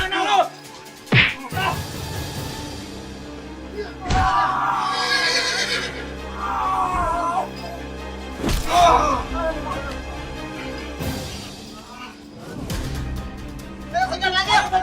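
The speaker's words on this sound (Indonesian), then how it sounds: "Itu kuda gonjrengnya." A horse whinnies loudly several times amid a frantic chase in an Indonesian drama, with thuds and shouting voices around it.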